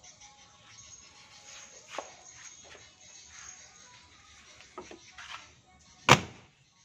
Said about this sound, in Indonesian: Pintu rapat.